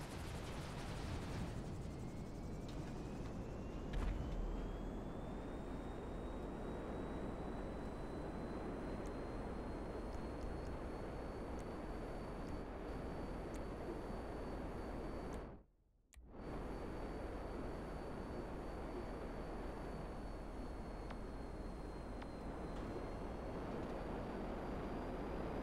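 Hydra jet flying in GTA 5, a steady, dense engine roar that fills the whole stretch at an even level, broken by one brief dropout around the middle before resuming.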